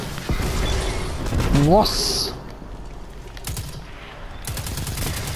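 Gunshots in the video game Destiny 2 crack out in a few sharp bursts amid game effects, while someone talks excitedly over them.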